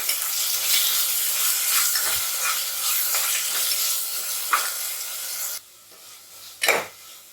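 Ginger garlic paste frying in hot oil for chicken biryani, a continuous close sizzle with scraping and stirring strokes, briefly dropping quieter near the end before a final scrape.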